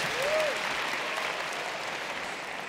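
A university convocation crowd claps for a speaker's wife, a quiet, distant, steady patter of many hands spreading evenly through a large hall.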